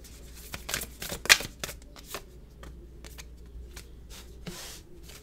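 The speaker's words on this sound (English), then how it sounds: "This is how I shuffle." Tarot cards are shuffled by hand in quiet, close-up bursts of papery riffling and soft slaps, several separate flurries with short pauses between them.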